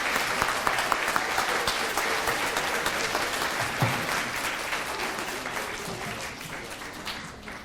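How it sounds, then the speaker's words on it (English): A round of applause from the audience at a reading room opening ceremony, steady clapping that starts full and slowly thins and fades out. "let's give our speakers a round of applause"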